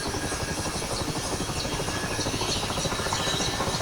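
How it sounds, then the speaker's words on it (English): Mi-8MTV2 helicopter engines in a flight simulator game spool up to maximum throttle, a loud, steady whining turbine roar with rotor buzz that holds constant throughout. "We'll just use the page up control to roll the throttle up to maximum."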